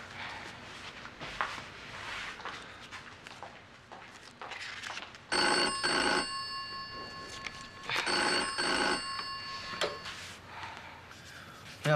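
A telephone bell rings in two long, bright trilling bursts in a 1995 Cantonese TVB sitcom household scene, following quieter room sounds and movement.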